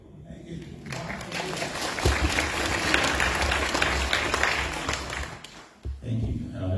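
An audience at a mayoral candidates' question time breaks into sustained applause, a broad wash of clapping hands lasting several seconds before fading, with some voices around it.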